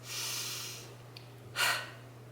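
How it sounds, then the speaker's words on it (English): A person takes slow, deep breaths during a guided breathing exercise: one long airy inhale, a pause, then a shorter, forceful exhale close to the microphone, over a steady low hum. "Breathe with me once."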